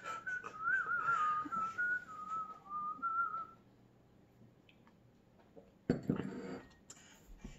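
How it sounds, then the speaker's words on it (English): A person hum-whistles a wavering melodic tune for several seconds, then goes quiet before a brief clatter and a little more sound near the end. "It's a hum whistle."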